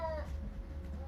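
A cat lets out a short meow close by, a rising then falling cry at the start followed by a fainter second call, over a low background hum.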